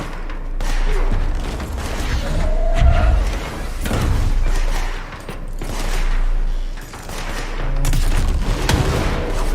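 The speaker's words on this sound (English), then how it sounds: "Rocket launcher." Rocket launcher shots in the video game Control thump and boom several times over a low steady hum, each blast swelling and fading with rumbling debris, with no talk over it.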